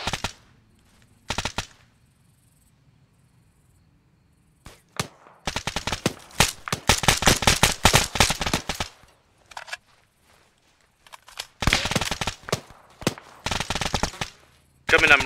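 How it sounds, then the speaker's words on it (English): Machine gun fire in ArmA 3 during a 75th Rangers squad firefight, long rattling automatic bursts and scattered single shots broken by quiet gaps, loud and close, with brief radio-style voices between volleys. "Bravo, returning fire."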